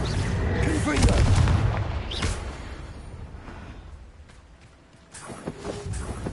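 A Confringo fire spell in Hogwarts Legacy sets off a heavy booming blast that rumbles loudly, then fades, with another sharp burst later and game voices mixed in.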